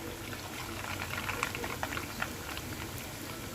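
Mini donuts made from bread fry in hot oil over a medium flame, giving a steady close bubbling sizzle with light crackles and pops throughout.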